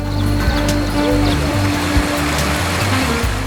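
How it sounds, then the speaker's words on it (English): A small waterfall in tropical nature near Maribaya, Java, gives a continuous close splashing rush, with a low steady hum and tonal drone running beneath the water throughout. "they visit a small waterfall amidst tropical nature"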